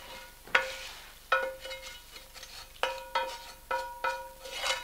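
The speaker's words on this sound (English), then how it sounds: "I'm going to take the bacon off the stove and put everything in there," Bacon and its grease scraped from a pan into a potato mixture for kugelis, heard as a series of ringing metallic clanks and scrapes of a utensil against the dish over a faint sizzle, close and unaccompanied by voices.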